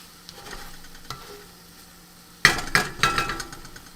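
Onions with brown sugar caramelize in a pan. A faint sizzle and light scrapes come first, then louder clatters and stirring bursts as the food is pushed around and spread out.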